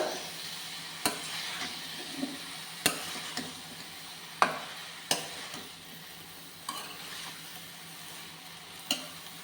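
Broad bean curry stirred in a pan, with sharp periodic scrapes and taps of a utensil against the pan over a soft continuous sizzle.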